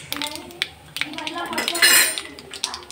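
A metal spoon stirs cumin, mustard seeds, chana dal and curry leaves in a pan for chutney, making loud, irregular clinks and scrapes against the metal, with a brief rising sizzle partway through.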